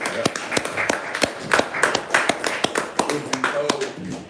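An audience claps for a while at an evening gathering, the claps sparse and distinct rather than a dense roar, with voices mixed in throughout.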